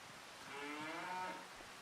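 Cattle moo in the Farming Simulator 25 video game on the Saxlingham farm map, a single drawn-out low call rising in the middle of the clip, moderately close over a faint background hiss with no talking.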